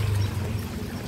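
Water splashes in a short, steady wash outdoors during a rainy walk, close by and moderately loud, with no talking.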